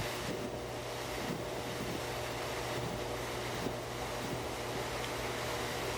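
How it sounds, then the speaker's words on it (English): Steady, dense roar of rushing water at Etiwanda Falls, Rancho Cucamonga, heard from above a good-sized waterfall, continuous and fairly loud, with a low rumble beneath and no voices. "So I'm above the waterfall. And it's a pretty good sized waterfall."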